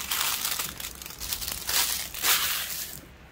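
Plastic packaging around rolls of washi tape crinkles and crackles up close in several bursts as it is handled and opened, with no one talking.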